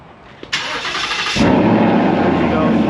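A Ford Mustang engine cranks briefly with the starter whine, then catches on a cold start and settles into a loud, steady rumble close by.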